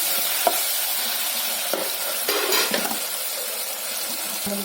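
Tomatoes with turmeric sautéing in hot oil, a loud continuous sizzle with occasional scrapes and taps of a spoon against the pan, close up and without talk.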